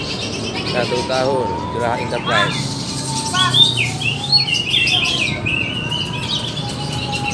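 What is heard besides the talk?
green leafbird (cucak hijau) singing at a songbird contest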